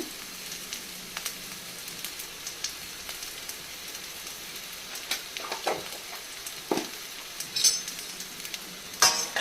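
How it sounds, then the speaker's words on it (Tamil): Sliced ridge gourd sautés in a pan with oil and salt, giving a soft, steady sizzle broken by occasional light stirring scrapes and clicks, with no talking. "கொஞ்சம் உப்பு விட்டு விட்டிங்கன்னா அதுவே வதங்கிடும்."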